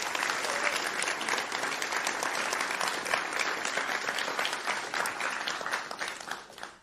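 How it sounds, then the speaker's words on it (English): Applause for presenting teams at a food systems event, a distant, even roar of many hands clapping, sustained throughout before tapering slightly at the end. "I would like to have another big round of applause for all our teams that prepared today"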